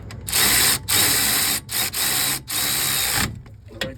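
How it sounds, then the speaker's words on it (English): A ratchet tightens a bolt during a brake job on a Toyota Highlander, with loud, close clicking bursts repeated in several quick runs before a brief pause. "and then I hit it with the ratchet"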